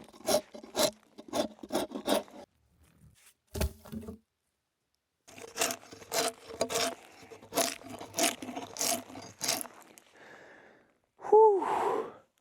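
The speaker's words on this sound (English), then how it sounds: "Stripping logs is hard work." Bark is stripped from logs by hand in Alaska, giving repeated close rasping scrapes in quick rhythmic bursts. A pause follows, then another long run of strokes, and the sequence ends with a heavy, breathy exhale.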